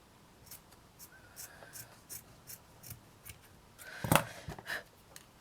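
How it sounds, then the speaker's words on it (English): Quiet, rhythmic snips of scissors cutting, a series of short crisp clicks with a louder, rougher cut near the end. "it's just my scissors are shite"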